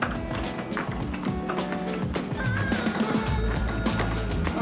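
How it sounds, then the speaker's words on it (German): A phone rings with a faint repeating electronic trill over busy background clatter and movement, fairly quiet and somewhat distant. "Telefon."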